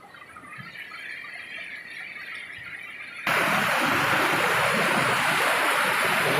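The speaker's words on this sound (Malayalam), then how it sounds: "രണ്ട് സൈഡിൽ നിന്ന് വന്ന് ഒരുമിച്ച് ഒഴുകി പോവുക" Two river streams meet and flow together over rocks at Chengkulam on the Punalur–Pappannoor route, with a steady broadband rush of water that jumps noticeably louder halfway through and then stays constant.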